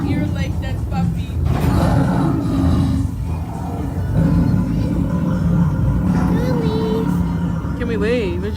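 An animatronic tiger at a birthday party lets out deep, rumbling roars that swell and fade repeatedly, mixed with busy indoor noise and people talking nearby.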